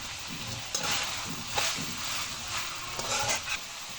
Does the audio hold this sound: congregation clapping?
no